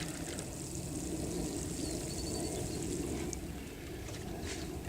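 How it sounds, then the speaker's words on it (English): Water pours onto a newly planted tomato set in sugarcane mulch, a steady soft splashing and trickling that runs evenly throughout at low level, with no talking. "water it in"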